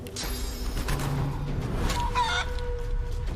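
Chicken clucking and squawking from the Chicken Punch skill in the video game Divinity Original Sin 2, short clucks and a sharp squawk over game ambience and effects.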